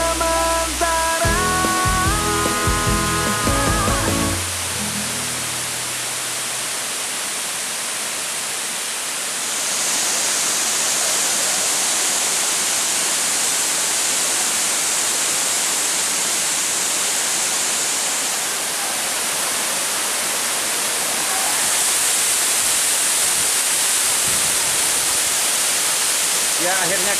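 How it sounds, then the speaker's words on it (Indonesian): Kali Dalam waterfall on a river, roughly 100 meters high, roars as a steady broadband wash of falling water, loud and continuous, with talk and other sounds over the first few seconds. "Ya akhirnya kita sampai di air terjun Kali Dalam, di mana ya jarak ketinggian air terjun ini sekitar 100 meter dari jalur sungai."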